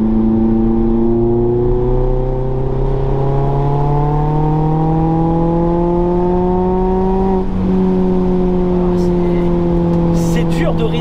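A Mazda MX-5 ND engine pulls hard under acceleration, its note rising steadily over several seconds, easing briefly, then climbing again. It sounds loud and close, as if heard from inside the cabin.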